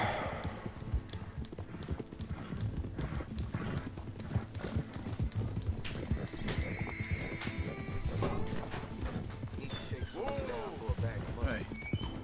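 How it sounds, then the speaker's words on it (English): Horses trotting in Red Dead Redemption 2, a steady clip-clop of hooves throughout with a whinny near the end, mixed with background talk. "Get that horse in line, Arthur"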